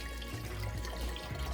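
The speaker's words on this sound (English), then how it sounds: "Steady flow of water." Water flows steadily through an aquaponics system grow bed, a soft, continuous trickle and splash heard close and alone.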